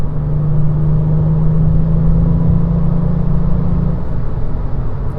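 A Volkswagen Up GTI, a 115 hp small hatchback, pulls in fifth gear, heard from inside as a loud, steady engine drone with road rumble. The tone holds for about four seconds and then eases, with no talking.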